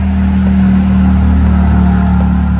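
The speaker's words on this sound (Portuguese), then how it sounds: "passou um carro barulhento" A noisy car passing near a catamaran sailboat construction site, a steady loud engine drone and hum filling the whole moment without rising or fading, with no talking.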